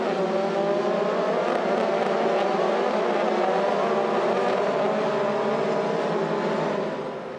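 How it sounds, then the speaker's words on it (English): FIA Formula 3 race cars at the Spielberg circuit roar steadily in a continuous, loud, high-revving engine drone that holds throughout, with overlapping car engines and no talk. "You can see the cars skating around now"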